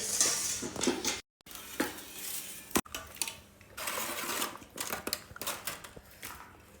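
Plates clattering and clinking close by as a festive Ugadi meal is served, a busy run of metallic knocks and scrapes with brief pauses.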